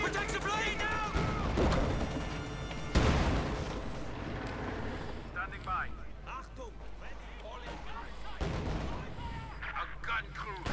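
Booming field-gun and tank cannon fire in a Company of Heroes 2 battle, heavy blasts and rumbling explosions layered over continuous battlefield noise, with someone commentating over the action.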